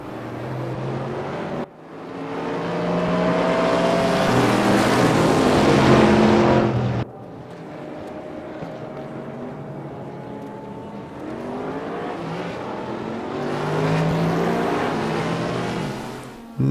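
GTR1-class race cars in the Raceroom sim racing game roar past, engines revving hard and shifting up through gears, loud bursts separated by a quieter stretch as another car climbs through its revs.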